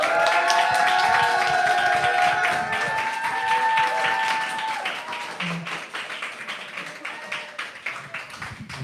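A church congregation claps and cheers to welcome the pastor at a Sunday service, a sustained close applause that gradually thins and becomes more scattered, with a voice over it near the start.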